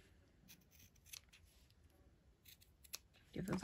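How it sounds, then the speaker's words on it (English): Scissors snipping ribbon for a Christmas mitten craft ornament, a few faint, quick, crisp cuts spread across a quiet moment, with soft handling rustle at the end. "Give those a couple of snips."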